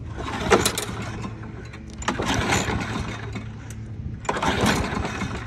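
A used, abused walk-behind lawn mower with a likely dirty carburetor is pulled to start several times, its engine briefly catching and sputtering in bursts, loud and close.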